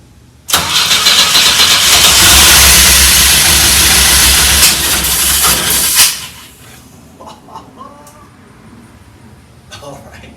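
A Pontiac Fiero engine, first start after about 30 years, roars loudly to life and holds a strong, rough run for several seconds before dropping to a quieter idle, with faint clatter and hiss afterward.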